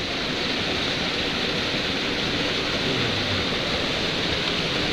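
Water rushes steadily at a hydro-powered pumping station in Greece, a loud, unbroken broadband roar that stays constant throughout, with no voices.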